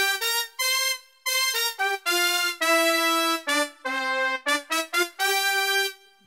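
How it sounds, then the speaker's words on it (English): Roland Fantom G synthesizer preset 940 brass part plays alone, a series of bright, sustained brass-like notes in a lively melodic phrase with short gaps between held tones, clear and up front. "preset number 940, brass part out. And it sounds like this by itself."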